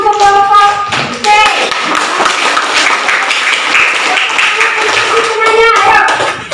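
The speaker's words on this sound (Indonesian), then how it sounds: "tepuk tangan untuk kelompok C" Classroom students clap for a group, with sharp bright taps and thumps in a quick uneven burst, while voices speak over and between the claps.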